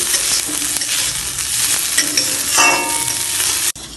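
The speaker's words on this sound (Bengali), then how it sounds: "কাজু আর কিশমিশগুলো ভাজা হতে তিরিশ থেকে চল্লিশ সেকেন্ডের মতো টাইম লাগবে" Close, loud sizzling of cashews and raisins frying in hot oil, with scraping and stirring throughout before it cuts off abruptly.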